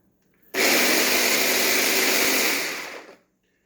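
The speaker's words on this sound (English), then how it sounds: "Seal up our little trusty mini food processor." A small countertop mini food processor whirs steadily for about two and a half seconds, loud and close, then winds down and stops.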